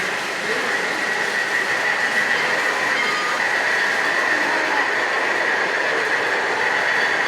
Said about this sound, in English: Sounds like a diesel startup.